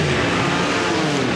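A Jaguar E-Type race car, driven by Sam Hancock at a Goodwood Members' Meeting, roars past close by with a loud, continuous engine blare throughout.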